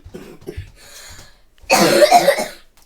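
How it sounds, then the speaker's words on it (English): A child with asthma coughs in a harsh, loud burst of several rapid coughs, close up, following softer breathy sounds and throat noises. "That's my son coughing."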